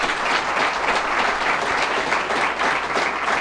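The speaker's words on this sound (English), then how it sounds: "Everybody, big round of applause for Jeff Clavier." Sustained audience applause at a startup talk event, dense and steady throughout with no speech over it.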